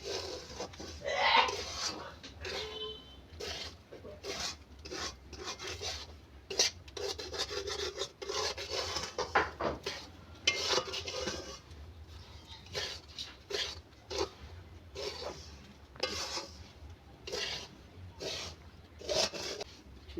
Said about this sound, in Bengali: এইভাবে আমি নেড়ে নেড়ে সুজিটা ভেজে নেব।